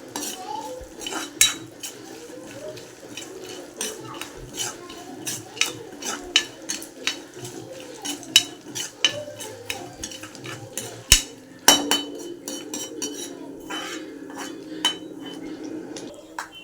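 Black peppercorns and sesame seeds roast in a little oil for an eggplant pachadi biryani side dish, with a steady run of sharp metal spoon scrapes and clinks against the pan over a low, continuous background of cooking noise.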